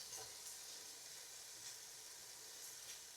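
Bacon frying in a pan gives off a constant soft crackling sizzle, faint and even, with a few light stirring scrapes and no voices.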